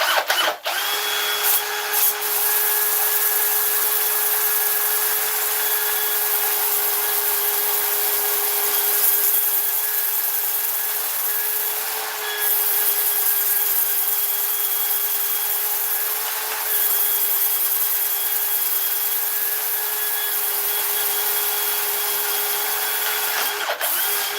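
An oak bowl spinning on a wood lathe is sanded continuously, giving a steady, loud whirring hum with an abrasive hiss over it, broken by a few brief dips.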